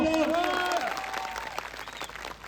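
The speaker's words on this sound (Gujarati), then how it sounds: "પોલીસ અધિકારીઓ જે આપણા બંદોબસ્તમાં છે એમના માટે જોરદાર તાળીઓ પાડી લો" A crowd at an outdoor public rally in Zariya applauds for the police officers on duty, steady clapping mixed with voices and harmonic tones early on, moderately loud and continuous.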